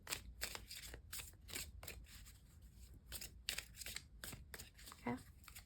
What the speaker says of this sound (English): Excuse me, messy shuffle.